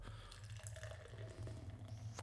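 Craft lager pours steadily into a glass nearby, a soft continuous gurgle and splash that stays quiet throughout.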